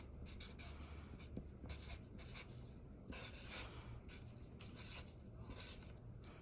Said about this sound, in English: on the bottom, I'm gonna write my name